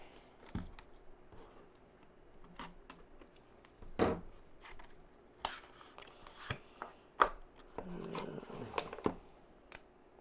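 Unboxing of a Microsoft Surface Go pen, with scattered crinkles, snaps and clicks of plastic packaging being handled and torn open close to the mic, coming as irregular faint bursts against quiet, with no talking.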